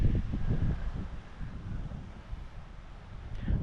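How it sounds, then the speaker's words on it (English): Strong outdoor wind buffets the microphone in low, gusty rumbles on a hillside near spreading fires, rising and falling in waves with no voices heard. "I don't know if you can tell how windy it is out here"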